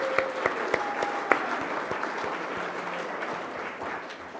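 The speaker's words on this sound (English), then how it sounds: "So applause for them," Sustained audience applause at a Florida Inventors Hall of Fame induction ceremony, a dense wash of many hands clapping at steady loudness, with a few sharper claps standing out and a brief tonal ring near the start.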